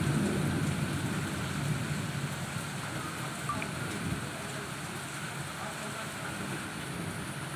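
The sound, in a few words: thunderstorm with heavy rain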